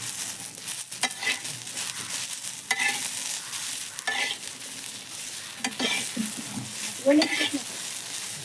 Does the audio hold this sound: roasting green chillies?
yes